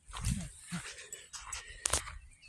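A dog whimpers and whines in short, high yelps on an outdoor walk at a lakeside park, close to the recording, with faint background noise and no clear speech.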